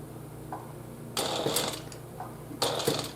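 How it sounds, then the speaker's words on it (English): A domestic sewing machine fitted with an edge foot stitches a seam on a fabric pouch in two short bursts of rapid mechanical whirring and clatter, close and loud, with no talking. "So let's sew."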